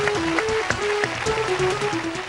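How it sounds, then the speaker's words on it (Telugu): Audience clapping on a Telugu game show, a short burst of scattered claps close by with a bright tonal sound running underneath. "ఓకే పద క్లాప్స్."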